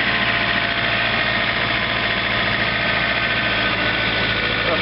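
A John Deere 2720 compact tractor holding at about 1700 RPM with its snow blower engaged, a loud, steady, unbroken engine drone with a constant low vibration.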